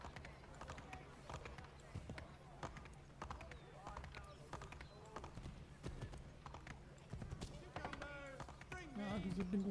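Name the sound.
horse galloping in Assassin's Creed III video game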